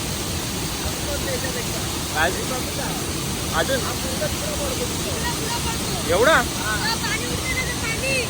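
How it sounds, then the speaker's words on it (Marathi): A fast stream rushes past at a Konkan waterfall near Lanja, Ratnagiri, a steady broad roar close by that never lets up, while people talk briefly over it. "हा पाण्याचा जो इथे प्रवाह इथे आता जवळ जवळ आहे ना"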